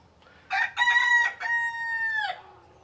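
A hen on a farm lets out a loud, close, drawn-out call, a few choppy squawks running into one long sustained note, with no talking over it.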